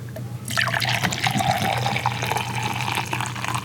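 Water is poured steadily into a Chemex coffee brewer, a close, continuous liquid stream that starts abruptly and keeps flowing over a low background hum, with no talking.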